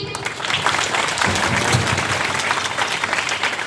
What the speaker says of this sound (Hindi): इस बच्ची के लिए अलग से जोरदार ताली बजाए, जोरदार।